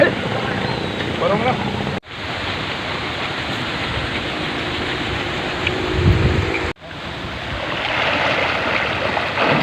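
Rushing river water where dogs are bathing, a steady broad wash of flowing water that stays loud throughout with two brief cuts.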